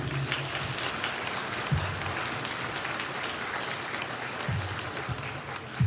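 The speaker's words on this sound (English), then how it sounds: "A round of applause for Jamie." Audience at the Essex 73's junior hockey Wall of Honour induction ceremony applauding Jamie, sustained clapping from a crowd in a hall, even and moderately distant, with a few low thumps and bumps among the hands.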